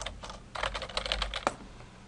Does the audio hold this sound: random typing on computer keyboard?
yes